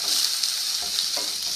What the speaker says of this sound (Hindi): अब इसमें ये जिंजर गार्लिक पेस्ट डालेंगे। सौते करें थोड़ा सा।